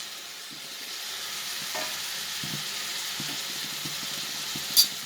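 Mint and coriander leaves sauté in a pot for a cumin samba mutton biryani, giving a soft, steady close-up sizzle with a few light stirring scrapes and a brief sharp clink near the end.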